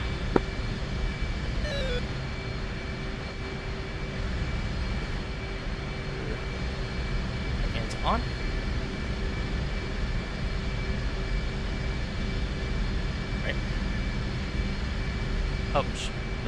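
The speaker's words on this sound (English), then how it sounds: "Tower Viper, ready for takeoff?" F/A-18C Hornet jet engine spooling for takeoff in the DCS flight simulator, a steady whining drone with thin tonal lines and a few brief clicks, while voices talk over it.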